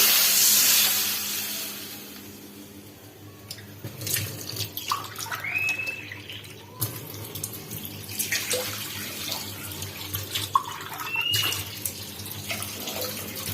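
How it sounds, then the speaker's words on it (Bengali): Water goes into a pan for cooking vegetable chicken noodles: a loud rushing pour at the start, then a softer running trickle broken by scattered clinks and knocks, with no talking. "এখন আমি এর মধ্যে নুডলস রান্না করার জন্য পানি দিয়ে দিচ্ছি।"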